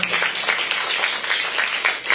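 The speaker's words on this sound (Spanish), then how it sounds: "para la cual les pido un fuerte aplauso" A room full of conference attendees breaks into steady clapping, a dense, even patter of many hands that stays fairly loud throughout the short stretch.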